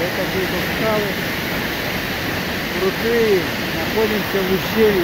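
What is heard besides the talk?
rushing Chara waterfall in a gorge at Rosa Khutor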